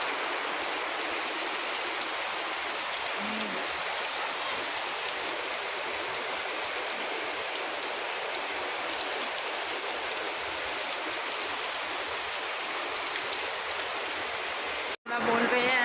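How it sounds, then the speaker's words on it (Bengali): Heavy rain falls in a steady, dense wash of noise that goes on without a break and stays loud, then stops sharply near the end. "দেখো দেখো কি পরিমাণে বৃষ্টি পড়ছে"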